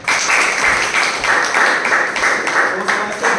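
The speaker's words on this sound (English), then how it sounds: "Please invite with huge round of applause Toastmaster Bhavna Mehta." Audience at a club meeting applauding as a Toastmaster is invited up, a steady, dense burst of clapping throughout with faint voices underneath.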